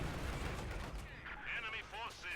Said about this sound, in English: IS-2, the Joseph Stalin tank. Big bulk of horrible bulk iron. It's just an absolutely unreal vehicle. 122mm cannon.